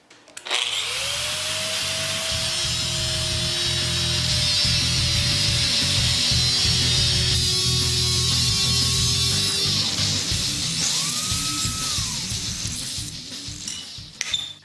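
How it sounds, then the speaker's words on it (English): Power tool cutting metal off a crescent wrench in a loud continuous whine, the pitch shifting as the blade bites and eases, with clinks at the end and no speech. "I'm gonna cut this off with just a little bit of space, just like an added tooth"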